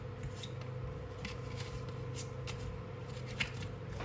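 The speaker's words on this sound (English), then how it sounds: "I'm going to have to shuffle behind and put the card there" A deck of tarot-style oracle cards is shuffled by hand at close range, a soft continuous riffling and rubbing with a small sharper snap near the end, alone without talk.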